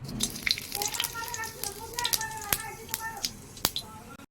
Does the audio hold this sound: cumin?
yes